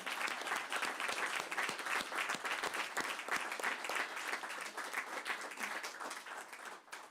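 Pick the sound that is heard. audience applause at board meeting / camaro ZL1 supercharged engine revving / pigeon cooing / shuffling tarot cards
audience applause at board meeting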